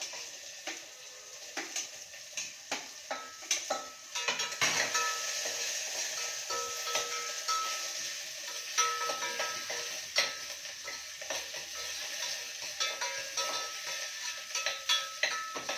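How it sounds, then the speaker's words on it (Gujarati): Onions frying in a pan for spinach biryani, a soft steady sizzle with clicking stirring strokes, fairly quiet and close, no talking. "ડુંગળીના બદામી રંગની શેકશું."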